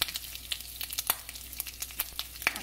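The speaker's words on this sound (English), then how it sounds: "I've just kind of browned my ham slices" Ham slices browning in a frying pan sizzle steadily with sharp, irregular crackles and pops, close and alone with no voices.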